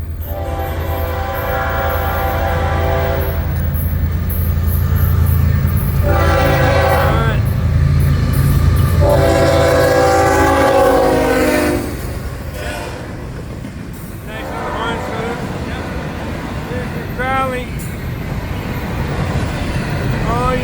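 A Florida East Coast Railway northbound freight train hauling empty cars passes, with repeated loud horn blasts over a deep rolling rumble of wheels and wagons, continuing after the horn stops.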